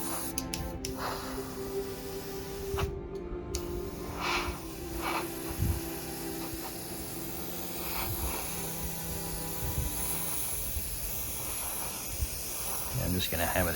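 Spray paint hissing steadily from an aerosol can over washi tape, a continuous close airy spray with brief pauses and bursts, with someone talking over it.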